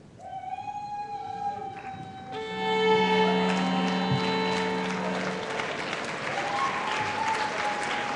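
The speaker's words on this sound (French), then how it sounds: "Je vous suggère de réserver vos applaudissements pour des groupes." A graduation ceremony audience applauds steadily for several seconds, dense clapping swelling after a sustained tonal hum fades out.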